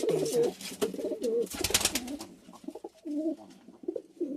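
Startled pigeon near its eggs, cooing in throaty repeated calls at close range with brief fluttering rustles in between.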